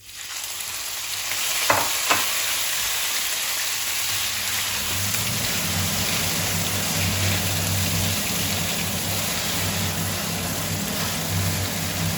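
Pork hits hot oil in a wok with a couple of sharp clinks, then a loud, dense, rain-like sizzle that holds steady and close for the rest of the stretch.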